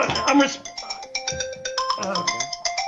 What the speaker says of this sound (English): What's that phone going off?